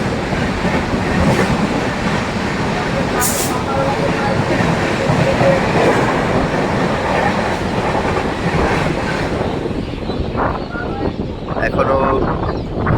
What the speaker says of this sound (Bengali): কামারকুণ্ডু স্টেশন ছেড়ে যাচ্ছে।